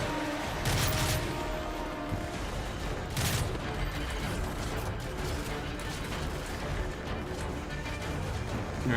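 Rapid bursts of automatic gunfire from a hard-recoiling gun in Call of Duty: Modern Warfare 3, loud and near, with a dense wash of battlefield noise and scattered impacts throughout.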